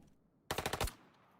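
A single quick burst of Glock pistol fire in the video game Road to Vostok, about six sharp close shots in under half a second, loud against a quiet background.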